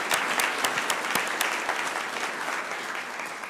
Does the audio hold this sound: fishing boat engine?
no